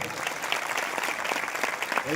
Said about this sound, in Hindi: विश्वास करिबा लोक माने जोर से ताली मारी प्रभु को धन्यवाद देबा